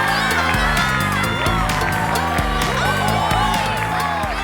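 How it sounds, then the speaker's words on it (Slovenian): A crowd cheering and applauding for Lana and Oliver after a children's song-and-dance stage show, loud and continuous throughout, with music playing steadily beneath the noise. "Prosim, še en aplavz za Lano in Oliverja."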